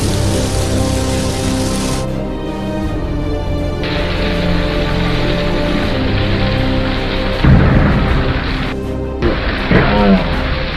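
Steady heavy rain hisses loudly throughout a thunderstorm, with a deeper rumble of thunder swelling briefly near the end; the broadband wash stays constant and close.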